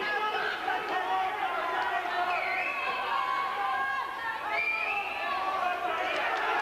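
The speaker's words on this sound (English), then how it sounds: "you can hear what they think of him in Belfast. The crowd is really behind our man now." A crowd at a fight event in Belfast roars and cheers, a continuous loud mass of voices with rising shouts and whistles swelling over the arena, with commentators talking over it.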